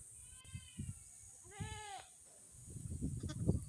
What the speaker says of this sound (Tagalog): Eto, laging uhaw ang aking kambing.